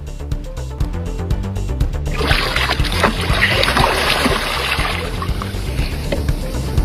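Water splashes and churns around a kayak being towed by a hooked shark off South Carolina, loud and continuous rushing after a brief rhythmic knocking at the start.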